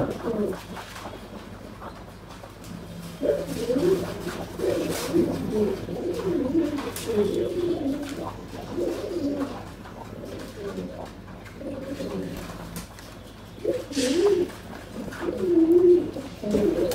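Pigeons cooing close by in a series of soft, throaty, rolling calls repeated every second or two, with brief pauses between bursts and faint background noise.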